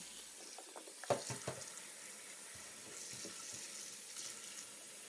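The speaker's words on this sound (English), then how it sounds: "we're going to come over to the sink, and I'm going to take my garlic and I'm going to fill it" Water runs from a sink tap over fresh garlic, giving a steady splashing hiss with a few clicks and knocks early on, close by and with no talking.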